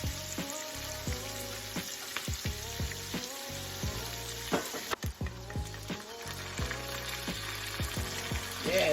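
Minced garlic and onions sizzle in a hot pan, for smothered chicken and gravy, as a steady, close frying hiss that runs unbroken throughout, with steady tonal background sounds beneath it.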